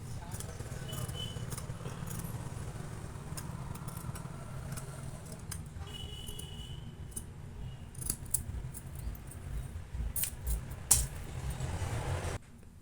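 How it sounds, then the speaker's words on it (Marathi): Scissors cut a V-neck into blouse fabric, giving a steady run of close snipping and rustling over a low background hum, with brief clicks near the end. "आता आपण काय करायचं, पहिल्यांदा गळा कापून घेऊ।"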